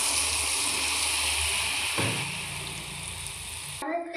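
Pakan pitha batter sizzles steadily in hot oil in a wok, a close, hissing fry that eases slightly midway and cuts off abruptly near the end.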